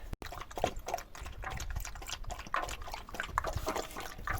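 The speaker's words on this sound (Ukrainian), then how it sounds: "Бачите, він коли починає водичку так хлябати." Wet, rhythmic lapping of a dog drinking water up close, steady splashy licks repeating for several seconds.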